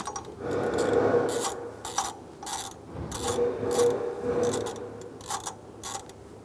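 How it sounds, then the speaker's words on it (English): A quarter-inch ratchet with an extension and a 10 mm socket turns out the bottom bracket bolt near the camshaft position sensor on a 2014-2018 Chevrolet Silverado 5.3L V8, giving close, repeated bursts of rasping clicks over steady background noise. "We're going to use a quarter inch ratchet with an extension with a 10 millimeter socket, and we're going to remove that bottom bolt for the bracket."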